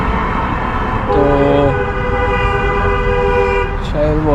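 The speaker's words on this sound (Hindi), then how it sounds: "बहुत तेज़ हॉर्न उन्होंने बजाया।" A train horn blares loudly and steadily in two long sustained blasts over the rumble of a passing train.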